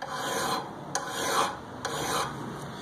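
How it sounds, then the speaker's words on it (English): A hand file rasps across a steel lawn mower blade in slow repeated strokes, each a gritty scrape, close and fairly quiet with no talk. "You're wanting to file down with the solid, where the metal is here, get it to sharp"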